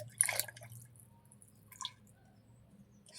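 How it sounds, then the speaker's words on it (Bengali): White cooking oil poured into a pot with bay leaves and cardamom while making biryani: a quiet, brief splash followed by a few soft drips in a still room. "তেজপাতা, এগুলো দিয়ে দেবো। দিয়ে দেবো সাদা তেল।"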